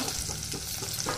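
Dried red chillies frying in a pan of hot oil for cashew upma, a steady dense sizzle with stirring, close and loud, no talking.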